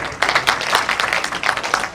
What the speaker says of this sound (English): I want all of you to please give our panelists a big hand of applause.